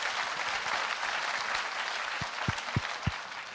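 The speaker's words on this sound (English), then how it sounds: "Right, a round of applause to John Apted." An audience at an entrepreneurship fair talk applauds. Steady, dense clapping fills the room, with a few louder individual thumps toward the end.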